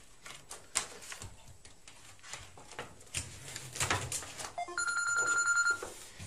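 A telephone bell rings once near the end, a bright sustained electronic trill, after scattered clicks and faint room noises with no talk.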